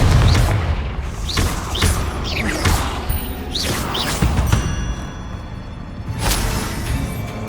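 Confringo fire-blast spells explode one after another in the wizarding game Hogwarts Legacy, a series of sharp booming bursts with whooshing casts, close and fairly loud, mixed with other spell effects.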